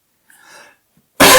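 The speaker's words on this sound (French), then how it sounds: "Pour la toux, je vais encore un petit peu tousser." A single sharp cough bursts out loudly near the end, after a brief quieter stretch of breathy throat noise.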